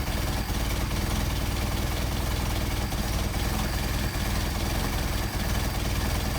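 Engine idling steadily and loudly throughout while its carburetor idle is adjusted, a continuous rumble with no talk over it.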